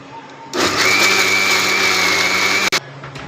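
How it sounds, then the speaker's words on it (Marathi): A mixer grinder grinds soaked lentils with two green chillies, ginger and garlic for dal vada. It kicks in abruptly into a loud, steady whirring roar that holds for about two seconds, then cuts off sharply. "त्यात मी टाकते दोन मिरच्या आलं लसूण आपण ते पण मिक्सरला बारीक करून घेऊ"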